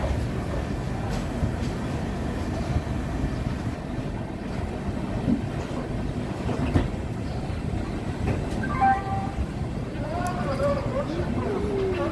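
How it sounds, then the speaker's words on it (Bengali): A train rumbles steadily as it rolls into platform 5 of Asansol station, with wind noise and a brief squeal of brakes near the end; a voice speaks over it. "আসানসোল স্টেশনের 5 নম্বর প্ল্যাটফর্মে ট্রেন ঢুকছে এখন।"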